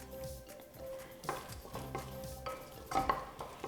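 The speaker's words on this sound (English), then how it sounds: "let's grab a spoon, give that a little stir." A spoon stirs chopped onion in a pot with scraping and clinking strokes at an uneven pace, close and moderately loud over a soft sizzle, while preparing a pumpkin chili.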